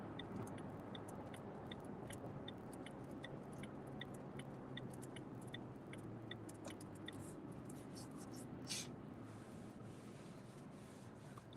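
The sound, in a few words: car driving in traffic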